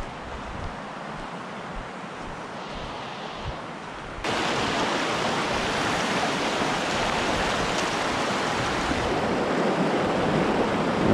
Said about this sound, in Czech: Takže dámy a pánové, tohle je řeka, kterou dneska budeme chytat.